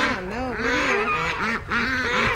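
Several ducklings call close by, overlapping honking quacks in a quick irregular chatter with no talk.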